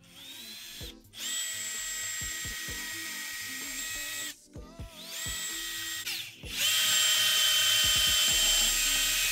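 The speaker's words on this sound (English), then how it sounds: "I start drilling." Power drill boring holes through a skateboard deck clamped to a template deck, three long whining bursts with brief pauses between, loud and close with no talking.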